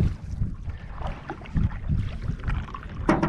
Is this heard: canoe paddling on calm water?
yes